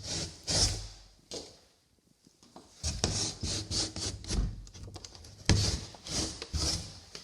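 A stiff, painted wooden bathroom door with a silver handle scrapes and rubs as it is worked open and shut, giving repeated dragging, grinding bursts close by with a short quiet gap between them.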